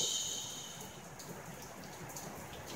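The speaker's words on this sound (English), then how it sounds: "Rain." Rain falling in an Australian backyard during a flood-rain spell, a soft, steady broadband patter that continues without a break, with a faint high tone fading out early on.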